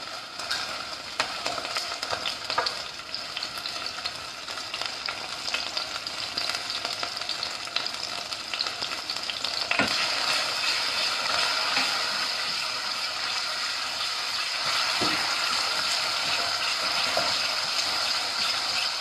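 A steady, loud sizzle of ginger garlic paste frying in hot ghee, with occasional stirring scrapes and crackles throughout.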